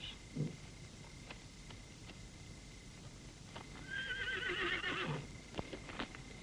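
A horse lets out a loud whinny, accompanied by scattered hoof clops and shuffling in a quiet outdoor setting, in a 1962 adventure war film.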